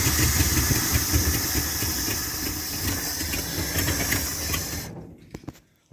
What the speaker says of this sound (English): When you rev it up, it does almost start to sound like it is missing on a cylinder or two.